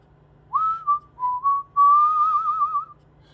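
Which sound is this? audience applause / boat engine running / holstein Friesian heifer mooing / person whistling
person whistling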